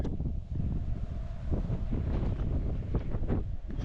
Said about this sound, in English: you could even hear some sort of higher pitched resonance being created by the wind